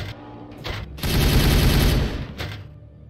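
Warhammer 40K Regicide battle gunfire: short opening bursts, then a dense, loud fusillade of rapid machine-gun fire for about a second, tailing off into a final burst.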